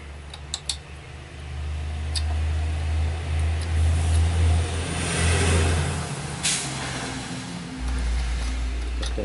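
A power carver fitted with a Typhoon bit grinds into a wood spirit walking stick, a loud low motor drone with a rough cutting whine that rises and falls before a brief pause, then restarts.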